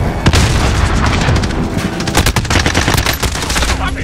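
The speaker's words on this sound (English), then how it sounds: "Throwing grenade. Sustained fire here." Call of Duty battle-royale combat in Rebirth: heavy sustained gunfire crackles almost continuously, with booming grenade blasts and rapid overlapping shots filling a loud, dense firefight throughout.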